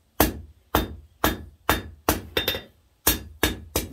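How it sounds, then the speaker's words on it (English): Ringing hammer blows fall on forging stock held at the edge of an anvil while a wall hook is made, eight or nine sharp, close strikes at an even pace with a quick double hit partway through. "the face of my hammer fairly high. Kind of working on the very edge of the anvil, almost pinching it"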